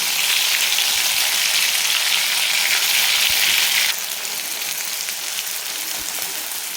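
Ground spice paste, a masala for chicken, dropped into hot oil and frying over a high flame: a steady, dense sizzle that continues without pause and drops slightly in intensity partway through.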